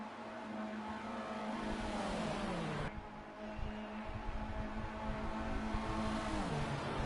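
Race cars roar past in a video game All-Star Race, with engines droning and rising in pitch, then a sharp cut as another car whooshes by, the pack revving on in a continuous snarl.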